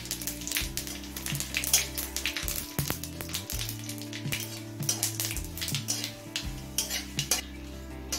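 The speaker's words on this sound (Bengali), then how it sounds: "জিরে, তেজপাতা, শুকনো লঙ্কাটা লাল করে ভেজে নিয়েছি।" Whole cumin seeds, bay leaves and a dried red chili fry in hot mustard oil, a steady sizzle running throughout with occasional metallic scrapes of a spoon against the pan, no one speaking over it.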